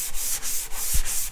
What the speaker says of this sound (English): You can take yourself sanding block or even just a sheet of sandpaper.